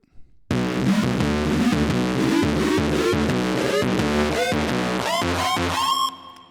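A loud, dense distorted feedback sound with a pitched tone as an EQ frequency is swept upward into a rising build in a remix, cutting off abruptly near the end.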